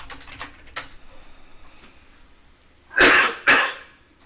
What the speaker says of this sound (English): apparently we've hit coughing point